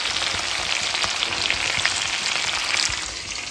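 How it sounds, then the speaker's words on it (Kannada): Green chilies fry in hot oil with a loud, dense, continuous crackling sizzle, close and steady throughout, with no voices. "ಸೊ ಎಣ್ಣೆಗ ಮೆಣಸಿನ್ಕಾಯಿ ಫಸ್ಟ್ ಫ್ರೈ ಮಾಡ್ಕೊಂಡ್ರಲ್ಲ ಚಲೋ ಫ್ರೈ ಆಗ್ತಾವೆ"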